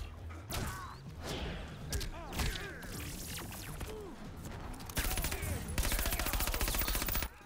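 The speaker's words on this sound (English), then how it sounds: "There's the guns blazing." Gunfire in the fighting game Mortal Kombat 11, with repeated shots and thuds over busy game effects building into a rapid, loud machine-gun burst near the end.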